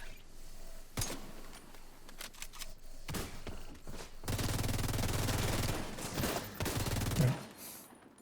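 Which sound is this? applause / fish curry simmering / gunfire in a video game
gunfire in a video game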